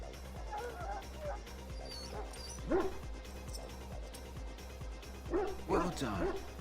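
A dog in a pen barks, yips and whimpers in a video game. Short bursts come in two clusters over a looping musical bed, and a voice talks between them.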